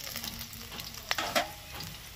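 Chopped tomato drops into potatoes frying in oil in a pan, giving a close, crackling sizzle broken by a few sharp stirring clatters.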